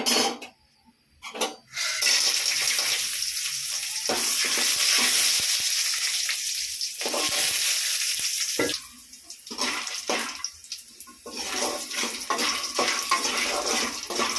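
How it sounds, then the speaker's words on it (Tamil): Turkey berries (sundakkai) being dry-fried in a pan give a continuous loud sizzle and hiss, broken by scraping stirs and short gaps, in a home kitchen. "சுண்டக்காவை வறுத்துக்கலாம்"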